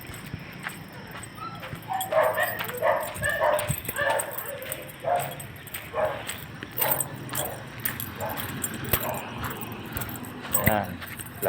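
Several dogs bark aggressively in short repeated bursts at moderate distance outdoors, with a person talking at times over the barking.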